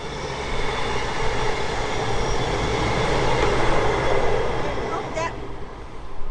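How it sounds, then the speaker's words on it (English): A train rumbles past close by, a loud, broad roar holding steady for several seconds before easing, heard outdoors beside a garage where a Reliant car's manifold is being taken apart. "Fucking train!"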